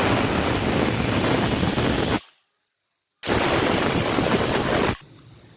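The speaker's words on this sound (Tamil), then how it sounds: "நாலு விசில் வந்துடுச்சு" Pressure cooker whistling hard while millet porridge cooks, a loud continuous hissing steam blast that stops abruptly, then bursts out again for a few seconds before cutting off to a quiet room hiss.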